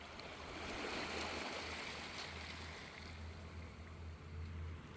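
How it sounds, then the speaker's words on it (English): Water washes back over shoreline rocks on a Newfoundland coast, a steady close hiss of rushing surf with a low engine-like hum underneath and no voices. "You just can't beat that noise of the water rolling back out over the rocks."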